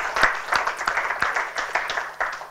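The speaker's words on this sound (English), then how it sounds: "I think that deserves a round of applause." Scattered audience applause at a business growth talk, a few dozen hands clapping in quick uneven bursts that rise and thin out, fairly close and without talk over it.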